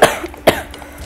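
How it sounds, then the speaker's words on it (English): A single sharp cough near the start, then a second cough about half a second later, both close and loud over quiet background, during a Terraria gaming session. "Cough."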